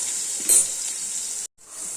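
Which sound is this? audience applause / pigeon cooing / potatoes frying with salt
potatoes frying with salt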